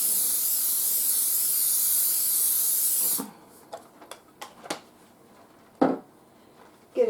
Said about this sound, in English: I'm going to spray it so it doesn't stick.